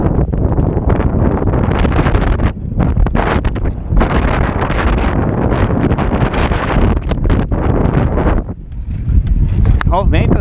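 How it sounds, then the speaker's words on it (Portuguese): Strong wind roars and buffets the microphone while someone rides a bike outdoors, a loud, gusty rush that continues almost without a break. "Ó o vento. Ele joga a bike."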